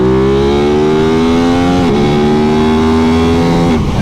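An Aprilia RS660 sportsbike engine revs hard and close, its pitch climbing steadily through a gear, dipping briefly at a shift before rising again, loud and continuous with wind rush.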